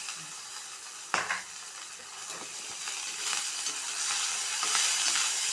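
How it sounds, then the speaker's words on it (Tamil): Drumstick flowers are sautéed in a pan, a steady bright sizzle with occasional stirring scrapes and one louder clatter early on, close and without talk. "நல்லா வதக்கிடுங்க. அந்த பச்சை வாடை போகிற அளவுக்கு நம்ம வதக்கிக்கணும்"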